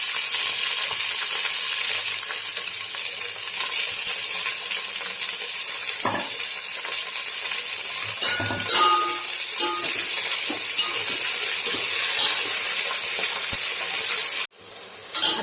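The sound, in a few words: tomatoes sizzling in frying pan for mutton biryani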